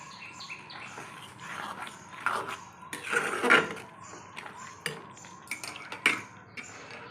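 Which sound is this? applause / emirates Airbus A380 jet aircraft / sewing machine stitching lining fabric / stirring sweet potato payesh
stirring sweet potato payesh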